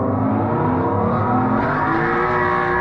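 Car pulling onto the Nürburgring track, its engine droning loudly and rising steadily as it accelerates, heard from close by with no talk.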